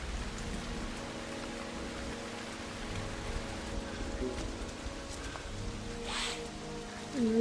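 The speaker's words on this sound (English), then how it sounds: "It's raining as well." Steady rain pours in the video game Heavy Rain, a dense even hiss of falling water with a faint low rumble beneath, continuous and fairly close throughout.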